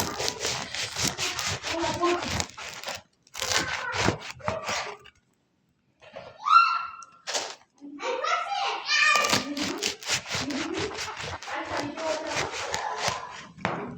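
Bread being sliced with a knife for mini pizzas, a run of rhythmic rasping saw-like strokes in bursts with short pauses, a voice in the background.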